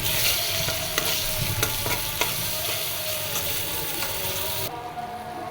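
Potatoes and onion sautéing in oil with turmeric, chilli, coriander, cumin, ginger, garlic and salt for a bitter gourd curry: a steady close sizzle broken by scraping stirs of a spatula, continuous throughout.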